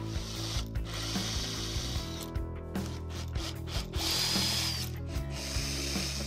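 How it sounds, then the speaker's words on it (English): A drill bores pilot holes in timber while making a lazy susan, giving a steady close whir broken by short clicking bursts and a brief higher whine near the middle. "I'll do a slight pilot hole, and then I can put it back in place and screw it in."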